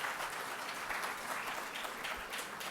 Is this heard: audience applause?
yes